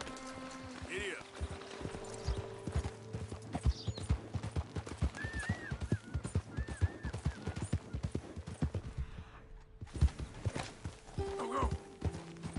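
Horse from Red Dead Redemption II running, with rapid rhythmic hoofbeat clip-clops, close and steady across the whole stretch, a brief whinny, and a quiet background ambience.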